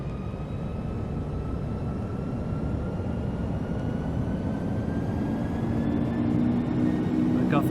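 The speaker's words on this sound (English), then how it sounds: "Go ahead and advance the throttles." Jet engines of an L-1011 TriStar in an FSX flight simulator spool up, a steady low roar that swells gradually with faint rising whine tones and no talk.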